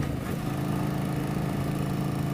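A 1988 Yamaha XV1100 Virago motorcycle idles steadily nearby, a continuous low, even engine rumble with no pauses and no talk over it.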